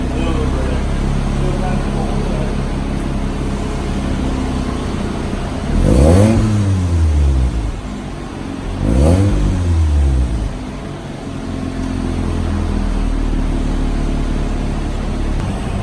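A cold Mazda RX-8 rotary engine with a new midpipe and catback exhaust idles roughly, then revs up twice to about 3,000 RPM in quick bursts, each pitch rising and falling back to a low idle; voices murmur faintly.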